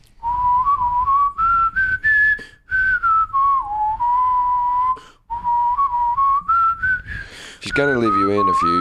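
A person whistles a continuous, wavering melody imitating bagpipes, loud and close, with brief breaths between phrases and a buzzy, drone-like ending; a voice speaks briefly around it.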